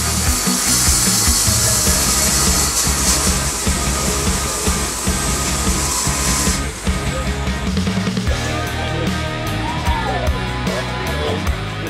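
A Diablo saw blade cutting metal, a loud continuous grinding rasp that shifts and eases after several seconds into a rougher, more uneven cut with faint background shouts.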